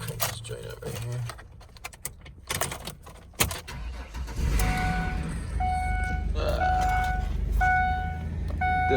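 A car parked at a Copart salvage yard cranks and catches, the engine settling into a steady idle with chiming warning tones after keys jingle and the door handling; someone talks at the start.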